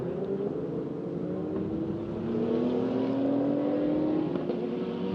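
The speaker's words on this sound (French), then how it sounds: "Regardez cette superbe Lamborghini Huracan de Régis Rego" A Lamborghini Huracan race car at Magny-Cours, its engine a steady roar that climbs gradually in pitch as it accelerates, loud and sustained, with other race cars likely in the mix.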